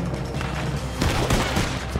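Dense, rapid gunfire from a Red Dead Redemption II gunfight, with overlapping shots and booms crowding together and growing heavier about halfway through, loud and close with no talking.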